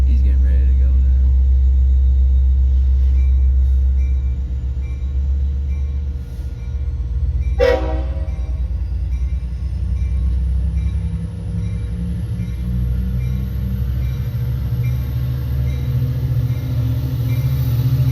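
A dual-mode passenger train passes close by at Sea Cliff, giving a loud, steady low rumble and rolling wheel noise that carries through the whole stretch, with a brief metallic clank partway through.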